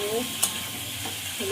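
Potato pieces sizzle in hot oil as they are stirred with salt and turmeric, giving a steady, close frying hiss broken by a few sharp scrapes of the spoon against the pan.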